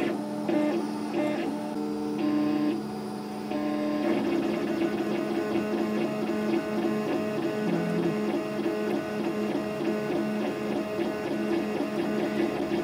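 A scratch-built DIY 3D printer runs a test print, its stepper motors buzzing and whirring in quick, busy, rhythmic patterns at a steady, moderate level.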